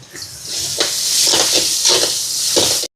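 Ginger garlic paste fries loudly in a pan, a steady close sizzle broken by several scraping stirs, alone with no voices.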